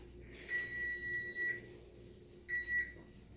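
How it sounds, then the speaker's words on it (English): An oven timer beeping after a batch of cookies bakes: two bursts of high electronic tones, a long one and a shorter one after a pause, fairly faint, with no talk. "Cut the timer off, unless you want to listen to that beep during my video"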